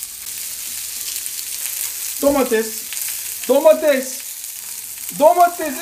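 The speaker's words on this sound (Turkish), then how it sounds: "Daha sonra biz kızartırız." İnegöl köfte meatballs fry in a pan with a steady, close sizzling hiss that runs throughout, while a voice talks over it in a few short bursts.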